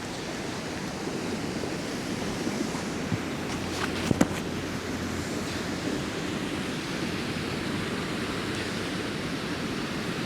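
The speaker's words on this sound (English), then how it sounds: "Rushing waters." A stream in a snowy park rushes past in a constant loud roar of water, close and unbroken, with a few faint knocks partway through.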